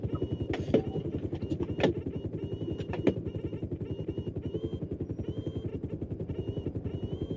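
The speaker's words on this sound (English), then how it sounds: "Drat, my helicopter went the wrong way." Helicopter in a video game flying with a steady rapid rotor chop throughout, loud and continuous, with a few brief clicks and game sounds over it.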